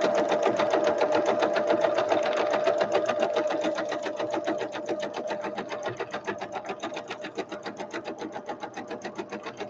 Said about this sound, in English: I'm going to sew all the way down my long edges